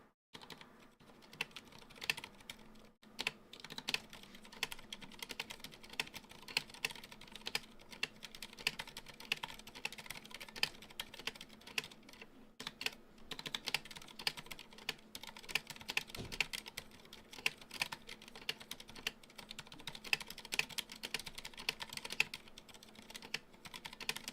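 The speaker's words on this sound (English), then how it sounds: "Let's see how fast I can type." Fast continuous typing on a Ducky One 2 SF keyboard fitted with silent red switches, a steady soft patter of keystrokes with a brief pause near the start and a few gaps, heard alone up close.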